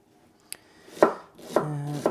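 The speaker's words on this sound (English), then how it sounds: "I'm just dicing up these red onions for a few things like stir fry, lettuce wraps, and a salsa" A knife dices red onions on a cutting board, with one light tap followed by three firm, close chops spaced about half a second apart. Each chop is crisp and percussive, and no voices are heard.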